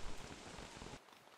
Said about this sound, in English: Weak rain.